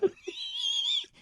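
Voice imitating heavy panting breaths, a short gasp followed by a long, wheezy, drawn-out breath, close and fairly loud.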